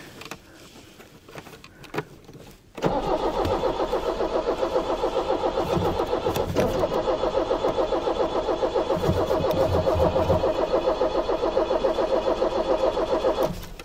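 An Iveco van engine with low compression cranks and struggles to start: a short stutter, then a long, loud, rhythmic churning drone that stays close and steady.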